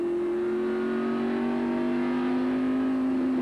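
NASCAR stock cars accelerate at a race restart at Phoenix in 1993, a loud sustained engine drone that rises slightly in pitch, with no talk over it.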